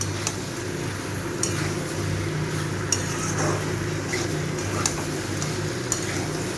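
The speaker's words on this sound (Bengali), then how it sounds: "এটা ভালো করে মশলার সাথে মিশিয়ে নেব, নিয়ে আরও 5 মিনিট একটু ভালো করে কষিয়ে নেব।" Gathi kochu (taro) being stirred and fried with spices in a pan for a prawn dish, a steady sizzle under scraping stirs with occasional utensil clinks against the pan.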